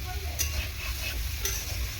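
Steady close sizzling of prawns and potatoes frying in hot oil, with a couple of soft stirring scrapes.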